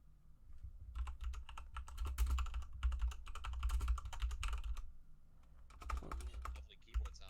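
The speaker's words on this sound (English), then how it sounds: "Lovely keyboard sounds." Rapid typing on a computer keyboard during a podcast recording, a quick clatter of key presses in uneven bursts over a low, muffled thump of the desk.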